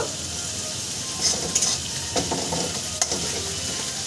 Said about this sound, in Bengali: মশলাটা আমি সুন্দর করে কষিয়ে নিয়েছি, আর একটু কষিয়ে নেব